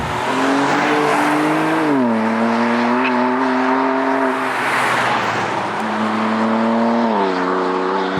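A BMW M2 Competition at high speed on the autobahn: a loud, steady engine drone holds throughout, with the pitch dipping and climbing at two gear changes.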